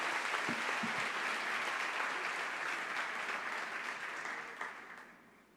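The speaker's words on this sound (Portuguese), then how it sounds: "Você consegue aplaudir ao Senhor pela sua palavra?" A church congregation at a Christian conference applauds, broad sustained clapping heard somewhat distantly that holds steady and then fades out over the last second.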